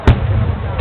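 Fireworks at the Edogawa fireworks festival give two short booming bursts, one at the start and one near the end, fairly loud.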